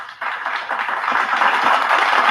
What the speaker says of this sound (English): Gotta give them applause on that one.